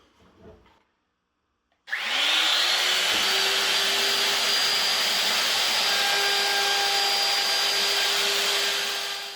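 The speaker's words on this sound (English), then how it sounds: "Routers are very loud." After a moment of quiet, a loud power router whines up to speed and screams steadily as it cuts a roundover edge on a wooden cornhole board, running continuously until the end.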